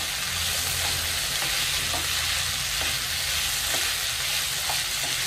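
Ivy gourd and chopped tomatoes fry in a pan for kovakka fry, a steady close sizzle running throughout with soft periodic scrapes of a spoon stirring now and then.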